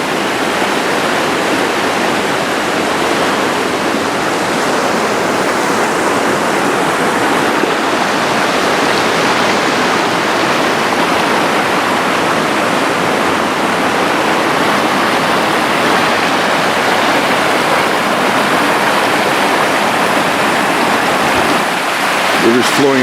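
Steady broadband rush of a mountain river running high after rain, close and continuous with no breaks, a full roaring wash of water alone.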